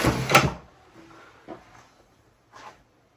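A drawer is pulled open or pushed shut at a workbench during electronics board assembly: one sharp knock followed by a few faint sliding thumps and clicks, close and quiet.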